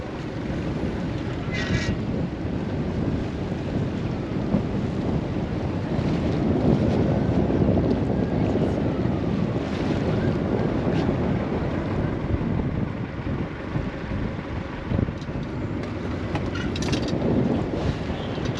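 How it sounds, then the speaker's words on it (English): Steady wind buffeting the microphone outdoors on the coast of Guernsey, Channel Islands, with a constant low rumble and gusts that swell and ease throughout, alongside a faint wash of water. "It's a little bit windy."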